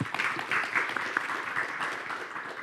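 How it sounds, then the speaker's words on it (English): Audience applause welcoming a speaker at the 70th anniversary international conference of the Korean Economic Association, a steady, moderately distant wash of many hands clapping that holds evenly for a few seconds without talk. "Let's welcome him with a big applause"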